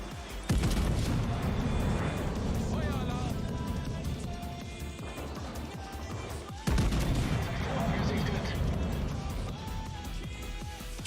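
Naval gun salvos in World of Warships boom out in two heavy blasts several seconds apart, each followed by a long rumbling roar and the continuous sound of the sea battle.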